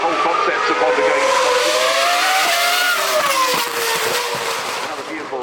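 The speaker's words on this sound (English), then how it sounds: "Beautiful car that used to compete against the Porsche 956." A race car that once competed against the Porsche 956 runs loudly past at a festival of speed, its high engine note sweeping and sliding in pitch with gear changes while an announcer talks over it.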